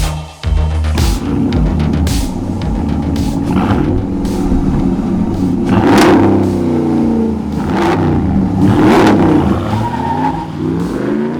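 A truck engine fitted with a K&N performance intake revs hard several times, each throttle blip rising to a loud roar and falling back to a rumbling idle, close and with no voices.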